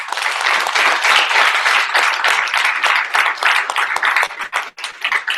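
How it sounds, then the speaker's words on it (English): A crowd at a team training event gives a woman another round of applause, dense, loud, sustained clapping that fills the room from start to finish, with faint voices underneath. "let's give her one more round of applause."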